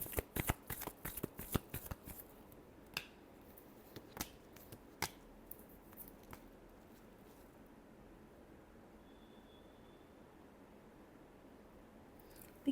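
Tarot cards are shuffled close up in a quiet room, with a quick run of crisp riffling snaps early on that thins to a few scattered taps and then near silence.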